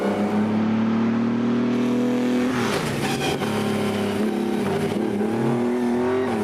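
A Maserati 250F racing car spins out, its engine snarl dropping and wavering as tires scrub and squeal, loud and close with constant wind rush.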